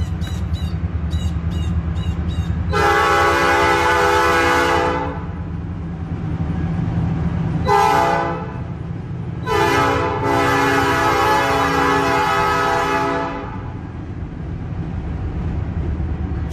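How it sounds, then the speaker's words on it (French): A train rumbles past continuously with a low steady roar, while loud horn blasts sound in three long bursts, the middle one short, during a church sermon. "malgré le train qui est en train de passer"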